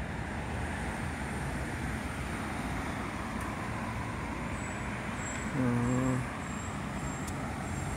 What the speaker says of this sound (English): Is that a truck coming? Sounds like it.